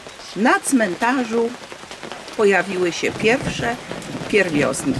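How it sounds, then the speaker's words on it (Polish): Steady rain falls in the English countryside, a soft continuous patter running beneath a voice speaking throughout. "Pada coraz bardziej"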